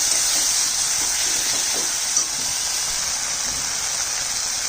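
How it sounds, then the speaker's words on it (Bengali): Spices with turmeric sizzling loudly in a pan as a little water is added while cooking a prawn curry, a close, steady hissing steam that holds constant with no voices. "অল্প অল্প জল দিয়ে মশলা আমি ভালো করে কষে নেব।"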